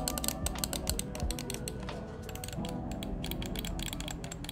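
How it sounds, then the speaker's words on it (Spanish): A RadioShack ergonomic wireless mouse held close to a microphone, its button giving a rapid series of sharp, dry clicks in an uneven rhythm, close-up and alone. "lo voy a acercar al micrófono para que escuchen cómo suena el clic"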